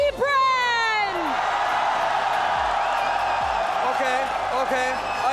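A large arena crowd at the Mobile Legends: Bang Bang Mid Season Cup 2024 grand finals cheers and whoops for Falcons AP Bren in a sustained loud roar, with whistles and voices rising above it.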